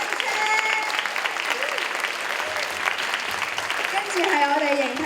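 Warm, sustained applause from a theatre audience at a youth summer show thanking the performing students and workshop instructors, steady clapping throughout with a voice speaking over it.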